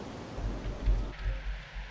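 Thunderstorm in Jurassic World Evolution: low rumbling thunder rolls under a wash of rain. It swells in a few heavy pulses, then thins out near the end as the storm fades.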